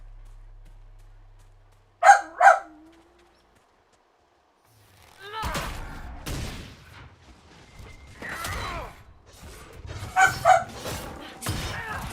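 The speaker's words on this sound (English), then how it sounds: "Bark, bark, bark." A dog in the video game Dragon Age: Inquisition gives two quick sharp barks close by after a quiet start, followed by muffled rustling game sounds and another pair of yips later.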